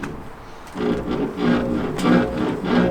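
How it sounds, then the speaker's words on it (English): Creaking, groaning worn coil springs as a Reliant car is bounced, in several repeated surges over about three seconds, fairly close and moderately loud. "Just the sound of shite coil springs."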